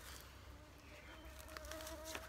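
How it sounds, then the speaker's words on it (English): Mosquitoes buzz faintly outdoors near a fence line, a thin steady whine drifting close and away over soft background ambience, with no talking. "Mosquitoes are horrible."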